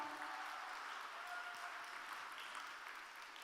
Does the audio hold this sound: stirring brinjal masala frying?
no